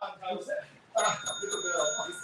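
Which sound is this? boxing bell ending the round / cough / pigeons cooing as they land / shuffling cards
boxing bell ending the round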